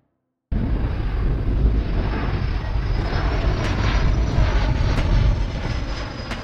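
An Avro RJ-85 airtanker, a converted commercial jet, roars steadily and loudly from start to finish after a brief silent moment, with wind buffeting the microphone.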